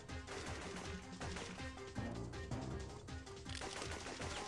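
Strafing gunfire from a PlayStation Classic game, rapid bursts of shots rattling continuously over a busy, dense game soundtrack with no voice.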